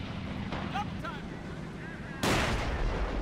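Gunfire in the strategy game Men of War Assault Squad 2, with faint distant pops and whistles followed by a sudden loud burst of shots near the end.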